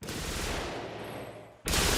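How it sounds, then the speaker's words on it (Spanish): A German MG-42 machine gun fires in a continuous, extremely rapid tearing burst that sounds almost like ripping cloth, loud and close, briefly fading before a second burst kicks in at the end. "No hay ametralladora que dispare como la MG-42."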